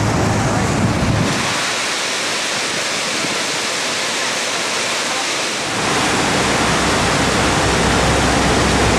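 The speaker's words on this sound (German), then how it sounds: "dann ein privates Boot und dann direkt ran an die hohen Wasserfälle." A loud, steady roar of Niagara Falls heard up close from a boat fills the clip, a dense rushing wash of water with heavy low rumble, close and continuous.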